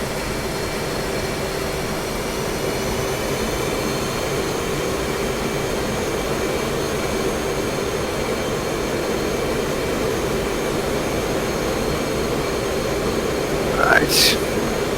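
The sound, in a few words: FA-18C jet engine, from a flight simulator video game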